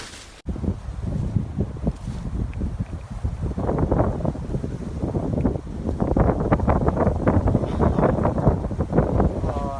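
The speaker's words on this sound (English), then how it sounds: "It's a bit windy at the moment." Strong gusty wind in Kathmandu buffeting the microphone, a loud rumbling roar that swells and stays heavy throughout, with faint rustling beneath.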